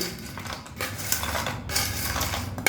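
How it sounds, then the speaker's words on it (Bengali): A spoon mixes vegetables with salt, a pinch of sugar and fried bori lentil dumplings in a cooking pot, giving a busy clatter and scrape of metal against the pot for a few seconds. "সব কিছু খুব ভালো করে মিশিয়ে নিচ্ছি"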